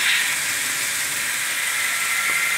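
A Fleischmann 733675 model steam locomotive with DCC sound gives off a steady, close steam hiss, a continuous airy rush with no breaks and no talking.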